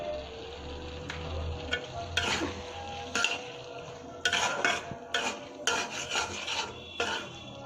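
Sliced potatoes sautéing in a pan for a koi fish and potato curry, with a sizzling bed under repeated scraping and stirring strokes of a spatula, close and fairly loud.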